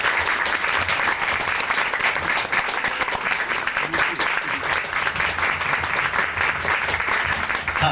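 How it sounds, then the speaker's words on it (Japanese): An audience claps for a nine-member band of junior high and high school students, with sustained, dense applause from many hands that holds at a constant level, lively and close. "じゃあ拍手お願いします。"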